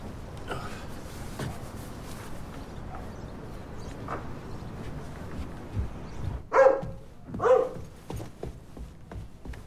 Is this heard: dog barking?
yes